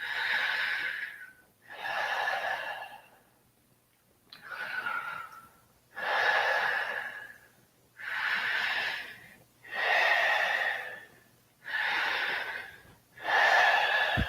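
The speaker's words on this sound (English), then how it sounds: "4 more breaths" Slow, deep yoga breathing, roughly eight long breathy inhales and exhales in a steady rhythm, close and fairly soft, with short quiet pauses between them and no talking.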